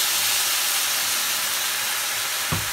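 Steady loud hiss of soy sauce hitting frozen vegetable mix frying with chili pepper in a hot pan, a constant close sizzle with a brief thump near the end.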